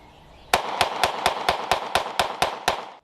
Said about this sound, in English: I'm just gonna shoot this gun fast